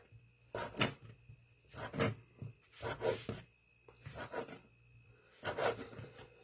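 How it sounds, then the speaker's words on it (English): Knife chopping cheese slices into small dice on a board, five distinct bursts of cutting strokes spaced about a second apart, close and fairly quiet, no talking. "And then I just turn them around and just cut them up, just like that."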